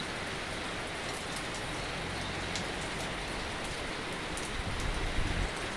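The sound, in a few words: rain falling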